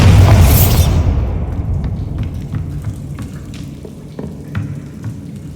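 A Bombarda spell in Hogwarts Legacy goes off as one loud, deep explosive boom at the start, then a long rumbling tail of debris and rain-like crackle that fades over several seconds, with a few small later pops.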